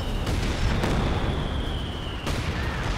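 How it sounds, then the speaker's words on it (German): An explosion booms in the video game Company of Heroes 2, a loud sustained rumbling blast with sharp cracks at the start and near the end, set in a noisy battle. "Naja, das Ding ist dann noch explodiert."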